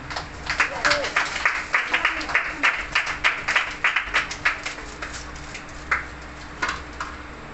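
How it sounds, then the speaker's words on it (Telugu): An audience at a meeting claps for the singers: a run of crisp, uneven handclaps that thins out toward the end, with a voice talking over it. "వారి కొరకు అందరూ చప్పట్లు కొట్టండి"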